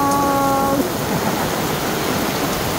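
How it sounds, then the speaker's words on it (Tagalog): A sudden heavy rain downpour pours down as a dense, steady hiss, loud and unbroken, with a brief tonal chime fading out at the start and no voices. "biglang buhos yung ulan eh"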